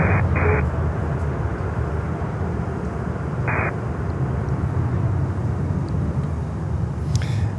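At Miami International Airport, a cargo airliner touches down, its steady engine and rolling rumble sounding at middle distance, with a few faint brief tones over the noise and no voices.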